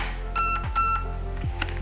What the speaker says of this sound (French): Les deux bips du MOSFET.